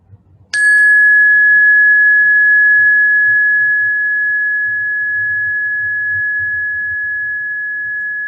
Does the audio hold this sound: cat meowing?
no